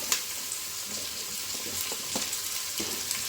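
Vegetables fry in a pan for veg dum biryani, a soft steady sizzle broken by a few clinks and scrapes of stirring, near and fairly quiet.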